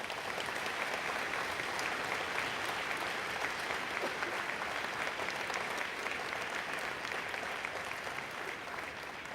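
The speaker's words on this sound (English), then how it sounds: "we'll pause here while we have a round of applause for these prize winners" A large school audience applauds prize winners at a Grades 6-11 prize day ceremony, with a dense, steady wash of many hands clapping continuously in a hall and no talking.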